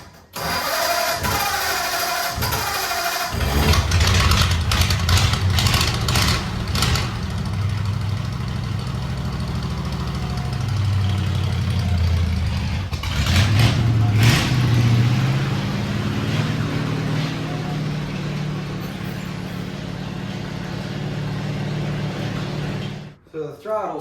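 A Ford Model A Roadster engine fitted with a Thickstun PM7 intake and no choke connected cranks, catches and settles into a loud, rough, uneven idle with occasional throttle blips, close by.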